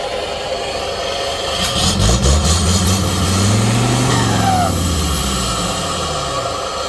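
A Mega Jo7e engine fitted with a modified catalytic exhaust revs up, holds a long throaty rise and falls back, loud and close with a raspy exhaust note. No one speaks.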